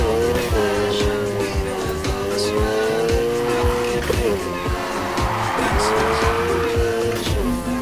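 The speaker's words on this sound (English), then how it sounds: "Now try and hold those drifts." A car drifting in the Need for Speed Heat video game: the engine roars up and down through shifts while the tires squeal in long, repeated slides, loud and close. A voice talks over it.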